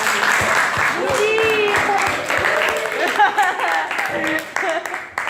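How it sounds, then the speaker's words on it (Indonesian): A burst of clapping from a classroom group fills the clip, with a few voices calling out over the applause. "tepuk tangan"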